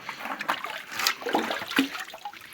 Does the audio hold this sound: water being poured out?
yes